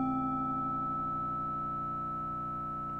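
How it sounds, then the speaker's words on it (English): A KORG Volca Drum's waveguide oscillator, set with long decay, rings as a sustained, steady resonant tone, fairly quiet and unchanging throughout, with no voices. "the waveguide is resonating at a different pitch"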